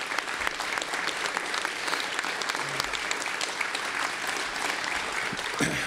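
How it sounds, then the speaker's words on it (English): An audience at a college basketball coach's introductory press conference claps in a steady, moderately loud round of applause that continues throughout. "So if we could give him a round of applause."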